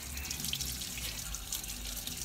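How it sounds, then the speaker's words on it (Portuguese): Running tap water rinses a dirty motorcycle air filter to loosen sand from its upper surface, a steady close hiss and splash continuing throughout with no talk. "Agora é só enxaguar aqui para dar uma soltada na areia que fica na parte superior do filtro. Vai jogando água corrente"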